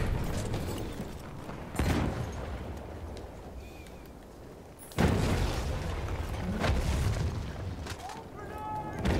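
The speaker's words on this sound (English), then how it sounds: "He's throwing a uh, grenade." Grenade blasts in the World War I video game Battlefield 1: two heavy booms a few seconds apart, each followed by a rumbling decay, over a noisy battlefield background.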